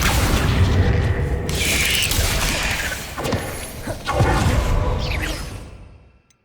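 Spell explosions from Confringo and Bombarda in the Hogwarts Legacy video game: loud, continuous booming blasts with whooshes and crashing impacts, fading out at the end.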